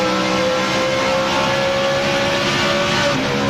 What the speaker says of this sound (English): I love to hear that engine